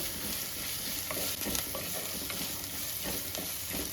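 Ginger and garlic frying in oil for a fish curry, a soft, steady sizzle with occasional stirring clicks, fairly quiet and close with no talking.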